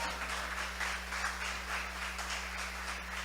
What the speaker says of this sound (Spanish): dale ese aplauso fuerte si se lo vas a dar